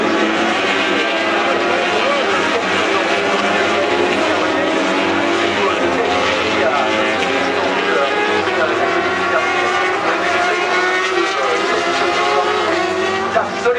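Superbike motorcycles race and brake at Magny-Cours in 2004, a dense, continuous engine roar that holds steady and loud throughout, with a commentator's voice running over it.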